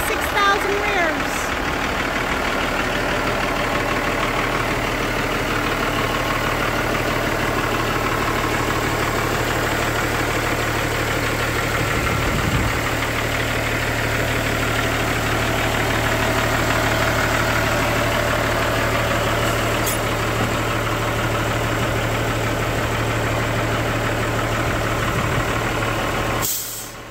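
A 2008 International 9900i tandem heavy-spec tractor truck idles steadily with a deep, constant diesel rumble and hum, close and loud throughout, with a faint hiss near the start.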